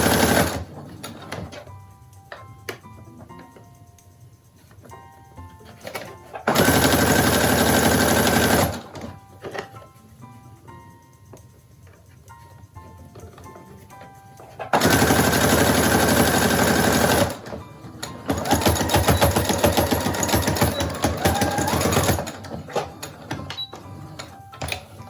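A sewing machine stitches a fabric face mask with elastic ear loops in several loud, steady whirring bursts of a few seconds each, separated by quieter gaps of handling and faint clicks.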